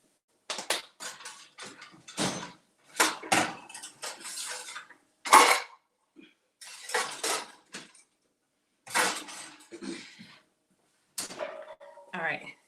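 Skillet and kitchenware handled in a home kitchen, irregular clanks and metallic knocks of pans and utensils between bursts of a person talking, with a dog audible at times.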